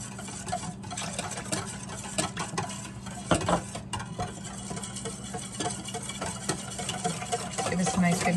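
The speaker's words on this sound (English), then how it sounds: "Give this a nice good mix." A spoon stirs chicken marinade with a splash of white wine added, giving a steady wet mixing and scraping sound that runs continuously at close range with no talk.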